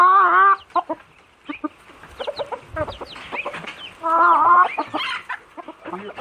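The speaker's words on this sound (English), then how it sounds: "You can release the rooster now, Roo." A rooster just let go clucks and calls loudly and close by, in repeated bursts of clucks mixed with longer drawn-out squawks, with other farmyard fowl sounds around it and no talking.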